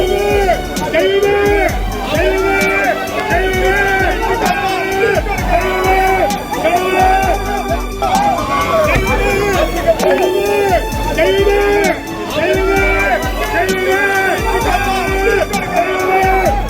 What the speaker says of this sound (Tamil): அவரை கண்டதும் ஆரவாரம் செய்த ரசிகர்கள் தெய்வமே கடவுளே என முழக்கமிட்டபடியே வரவேற்றனர்